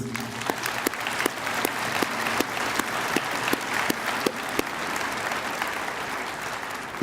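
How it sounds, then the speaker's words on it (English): Steady applause from an audience at a high school graduation ceremony fills the room, with a few sharper individual claps standing out over the dense clapping. "if we could recognize them and give them a round of applause, please."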